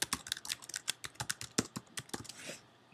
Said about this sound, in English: And so we want to type in our email here.